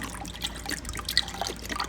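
Thick cream being poured into a container for butter making gives a soft, close trickling and dribbling of liquid, continuous with small splashy drips and no speech.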